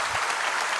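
Audience clapping along during a sermon by Acharya Vidyasagar at Dongaon, a dense burst of many hands applauding together, brief and fairly loud.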